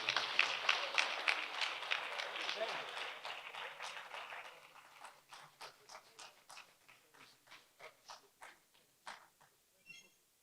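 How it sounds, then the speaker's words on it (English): An audience applauds at a debate event, a loud burst of dense clapping that thins out into scattered, fading individual claps. "Can we have a round of applause one more time for the charming Senator Ben Bruce as he leaves?"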